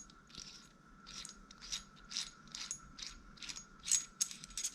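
A part of a Shimano Stella SW 30000 saltwater fishing reel is screwed on by hand, giving faint, close, rhythmic ratcheting clicks in a quick series of short bursts.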